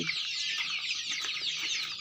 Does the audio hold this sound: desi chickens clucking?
yes